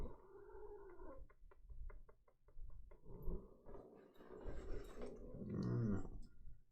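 Jealous house cat giving a string of close, agitated meows and yowls, several short calls then longer drawn-out cries, indoors and quiet overall.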